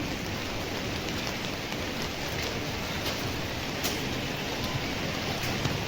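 Steady rain pours down at a villa on Koh Rong island in Cambodia, a dense, even hiss with scattered drop spatters, continuous and fairly close throughout, with no talking.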